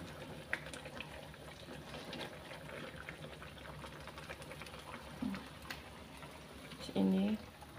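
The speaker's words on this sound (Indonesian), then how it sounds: "Rebus daun singkongnya ini ya guys." Cassava leaves boil in a pot of water, giving a soft, continuous bubbling hiss at moderate distance. A brief voice-like tone rises near the end.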